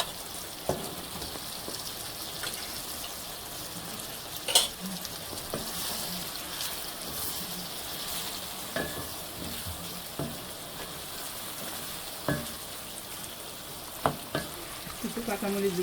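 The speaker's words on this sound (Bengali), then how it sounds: "এখন আমি একটু চিংড়ি মাছ দিয়ে দেবো, কিছু চিংড়ি মাছ দিয়ে রান্না হবে" Shrimp frying in cooked-down spice paste for a saag and ridge gourd curry, a faint steady sizzle broken by scattered clicks and scrapes of stirring, with no talking.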